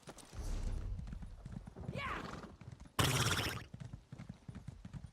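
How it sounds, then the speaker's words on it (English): Rapid hoofbeats clip-clop steadily, then a horse whinnies loudly in a bright burst before the trotting continues, with a voice speaking over it, in the video game Elder Scrolls Online. "Did I hear horse?"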